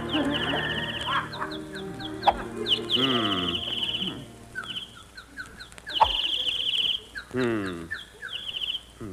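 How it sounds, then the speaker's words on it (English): Bird calls and clucking fowl sound effects on a golf course in an old-time radio comedy, with repeated chirps and squawks in bursts over a steady background, fairly loud and close. "Darn those birds. I wish they'd stop singing."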